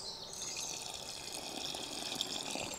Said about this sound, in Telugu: ఒక గ్లాస్ నీళ్ళు కూడా యాడ్ చేసుకుందాం